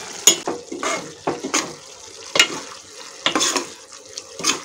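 Pesara punukulu, moong dal fritters, go one after another into a simmering onion curry, making a series of soft plops and scraping bursts over a quiet bubbling background.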